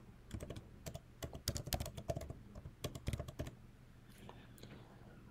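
Password keystrokes tapped out on a MacBook keyboard, a quick irregular run of close, crisp clicks that trails off into quiet near the end.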